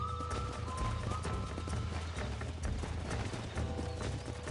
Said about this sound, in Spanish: Monta en tu caballo. Mount up, Marston.